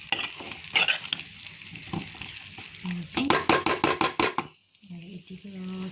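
Tomato-based cauliflower curry stirred in a frying pan, sizzling as a spoon scrapes the pan in quick rhythmic strokes that build to a fast burst, then stop, close and loud with a voice briefly heard.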